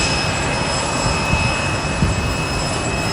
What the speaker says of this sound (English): it should be American Airlines 737 should be on takeoff shortly